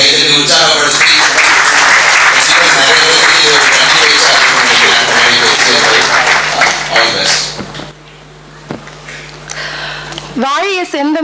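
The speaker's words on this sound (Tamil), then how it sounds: "அவரை இன்னும் கொஞ்சம் நம்ம கைத்தட்டி உற்சாகப்படுத்தி" Audience at a Tamil debate event applauding: dense, loud clapping that fills most of the stretch, then thins and fades out before a voice begins.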